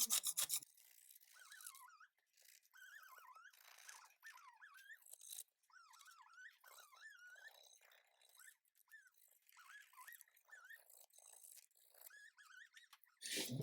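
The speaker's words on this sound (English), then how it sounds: "So we just give it a scrape." A gasket mating surface on a Ford Ka thermostat housing is scraped clean, with short, rasping scrapes repeated in an irregular rhythm, close and fairly quiet, no talking.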